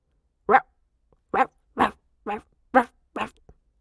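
A dog barks six times in a steady sequence inside a house, each bark sharp and close, with no voices in between, set within a German audiobook of a Stephen King psychological thriller.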